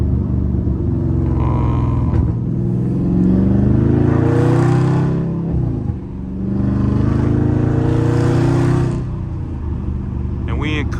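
A loud Dodge Charger Scat Pack driven with manual downshifts in custom mode rumbles deeply from inside the cabin, with engine pitch sweeping up and dropping through two rev cycles amid wind noise.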